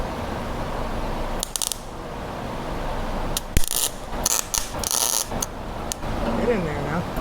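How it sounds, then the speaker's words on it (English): A gas-fed welder lays short bursts of crackling, sputtering arc on a curved steel bed panel near the stake pocket of a 1962 Chevy C10 pickup. The bursts are close and irregular, with steady shop noise in between. "So let's fire up the welder and start at the bottom."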